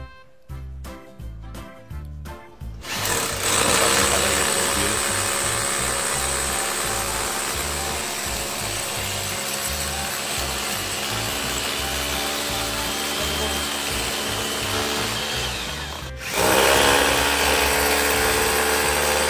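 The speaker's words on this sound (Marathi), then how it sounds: "बिळ पाडायचे ड्रिल मशीनने" Electric drill machine boring holes through a board for a homemade water fogger cooler, a loud steady whirring drone running continuously for most of the stretch after a few short spurts, then briefly pausing and starting again.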